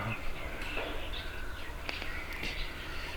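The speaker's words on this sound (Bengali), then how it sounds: "আর পাখি ডাকছে অনেক।" Multiple birds call and chirp over a steady, fairly loud background hiss, the calls overlapping at moderate distance.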